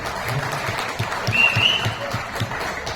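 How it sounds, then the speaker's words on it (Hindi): An audience at a comedy show during a big laughter festival claps in a steady wash of applause, heard close and fairly loud with faint voices underneath. "तालियां ढंग से बजाया करो, बजाने को।"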